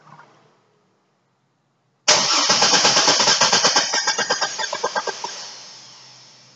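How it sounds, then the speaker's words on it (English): After a quiet pause, a car engine's starter cranks it for a relative compression test, giving a loud, close, rhythmic chugging of even pulses that slows and fades without the motor firing. "I'm going to crank this motor, and you're going to watch what happens."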